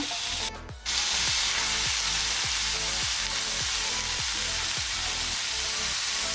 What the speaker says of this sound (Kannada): ಇದನ್ನೀಗ ನಾವು ಮೀಡಿಯಂ ಫ್ಲೇಮಲ್ಲಿ ಹುರಿಬೇಕು